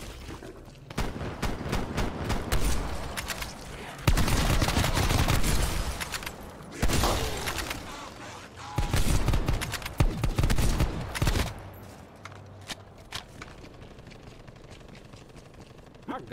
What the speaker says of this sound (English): This is a shotgun, my guy.